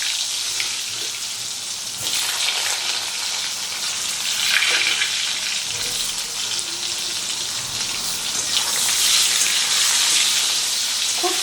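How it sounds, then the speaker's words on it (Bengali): Pointed gourd coated in salt and turmeric frying in hot mustard oil, a loud, steady hiss of sizzling that swells and settles, close up with no voices. "এবারে তেলের মধ্যে আমি দিয়ে দিচ্ছি নুন হলুদ মাখানো পটলগুলো।"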